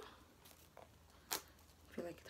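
A packaged Filipino snack, boat tarts, is torn open by hand, with a couple of short crinkly rips of the wrapper close by amid quiet handling noise.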